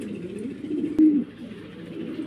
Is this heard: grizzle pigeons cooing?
yes